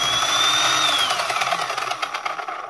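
An HPI Jumpshot RC model car's electric motor whines under throttle, a close high-pitched whir that rises then falls away with gritty buzzing over about three seconds.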